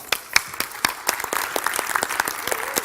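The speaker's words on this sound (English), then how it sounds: "Let's give him a round of applause." Brief burst of audience applause for a volunteer called up on stage at a seminar, with sharp individual claps over a dense clapping bed and a few voices underneath.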